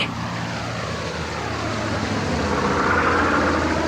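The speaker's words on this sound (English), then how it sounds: "It's an aeroplane. A plane!" A propeller aeroplane drones overhead in a steady, loud engine roar that swells slightly toward the end, heard alone in an audio drama scene near a valley cave.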